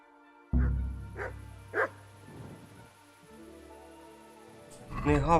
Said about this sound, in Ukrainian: Не гавкай на мене